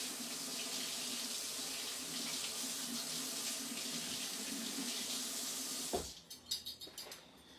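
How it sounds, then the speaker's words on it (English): Tap water running steadily into a kitchen sink to rinse electric mixer beaters, a constant close hiss for several seconds before the flow stops and a few wet clatters and drips follow. "wash it off my mixer beaters"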